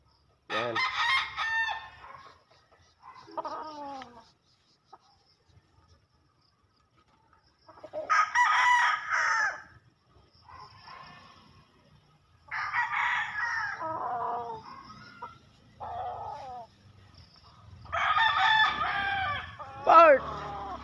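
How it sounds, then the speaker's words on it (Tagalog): Several roosters crow in turn from a gamecock bloodline, loud nearby crows with gaps between them, alongside a few softer clucks and quiet rustling. "kalahi ko sa manok ni Jason Garces"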